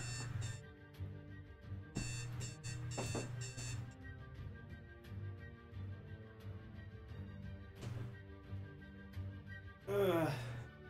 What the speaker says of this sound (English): why on earth is my alarm going off now?